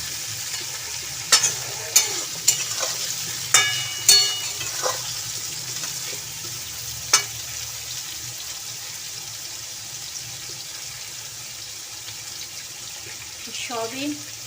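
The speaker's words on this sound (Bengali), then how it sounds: "এদিকে আলু সয়াবিন আর টমেটো কড়াই দিয়ে দিয়েছি।" Potatoes, soya chunks and tomatoes fry in a wok, a low steady sizzle broken by several sharp spatula scrapes and knocks early on, then a quieter stretch before a short stirring clatter at the end.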